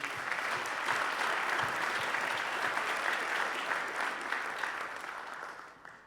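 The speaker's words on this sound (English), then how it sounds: "Can I have a round of applause for everyone, please?" Sustained applause from a crowd at a high school winter varsity athletic awards ceremony, steady and full for several seconds before tapering off at the end.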